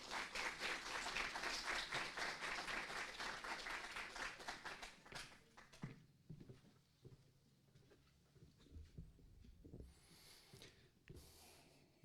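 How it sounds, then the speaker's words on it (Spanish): Thick applause from an audience at a lecture presentation of a research study fills the first half, then thins into a few scattered claps and faint movement before stopping. "Un fuerte aplauso, por favor."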